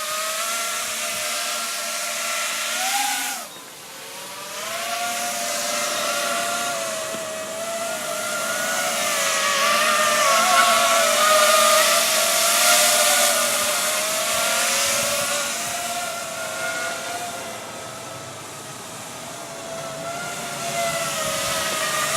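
An FPV drone with Lumenier Butter Cutter propellers buzzes loudly and continuously overhead, its whining motor pitch rising and dipping as it is pushed around by wind, with no talking.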